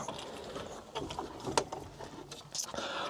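An aluminium pot hauler running through a quick demonstration, giving off clattering mechanical ratcheting and gear noise with irregular knocks, fairly quiet and steady over background noise.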